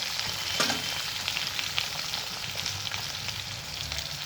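Potatoes fry with black cumin seeds in a pan, giving a steady, close sizzle with faint scraping stirs throughout and no talking.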